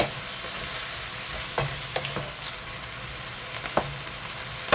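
Bitter gourd (ampalaya) being stirred in a pan with salt and chicken powder, a soft steady sizzle broken by several light spatula scrapes and taps.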